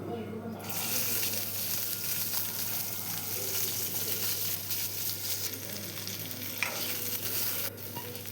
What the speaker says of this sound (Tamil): நம்ம வெண்டைக்காயை வதக்கி எடுத்துக்கலாம்.